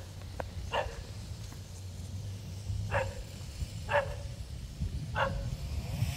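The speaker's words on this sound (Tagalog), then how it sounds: "May aso." Dog barking outdoors on a sightseeing walk in Taitung, with four sharp single barks spaced a second or so apart, moderately distant over steady low traffic rumble.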